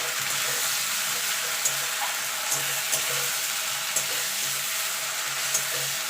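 Ginger garlic paste fries with onions in a pan for chicken kosha, giving a steady, close sizzle with occasional stirring scrapes and small pops throughout.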